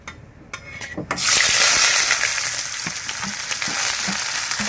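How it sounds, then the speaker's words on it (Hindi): Chopped onions dropped into hot oil in a pan for a mutton liver and lung dish: after a few clinks, a loud hiss bursts up and settles into a steady, close sizzle. "ये प्याज अच्छे से फ्राई हो जाएगा"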